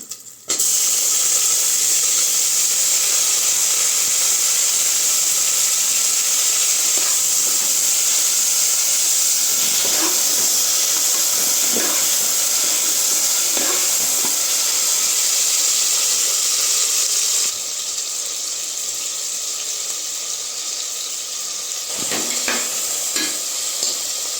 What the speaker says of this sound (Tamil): இந்த ஸ்டேஜில் வந்து நம்ம கட் பண்ண தக்காளியை போட்டுக்கலாம்